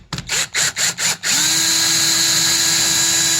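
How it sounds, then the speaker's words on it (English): A cordless drill spinning a drive sprocket to lap in gears pulses in several short bursts, then holds a loud, steady whirring spin at close range. "then I just simply take my drill gun here"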